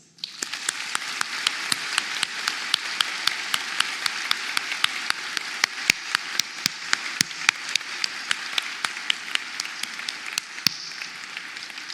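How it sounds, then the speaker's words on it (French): Steady applause from a crowd at a graduation ceremony fills the space, dense clapping sustained evenly for several seconds with a few sharper claps standing out. "Applaudissons-les."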